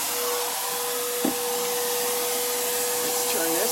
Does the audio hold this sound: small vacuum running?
yes